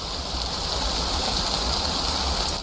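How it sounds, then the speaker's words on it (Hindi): Steady rain pours at night in a horror short film, a loud, continuous wash of hiss and patter that never lets up for the whole stretch, with no other sounds above it. "बारिश हो रही है,"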